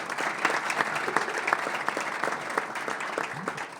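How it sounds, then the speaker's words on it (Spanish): Audience applause at a marketing presentation in Argentina, a steady crowd clapping at close range with dense, even claps and no talk over it. "un aplauso también para ellos"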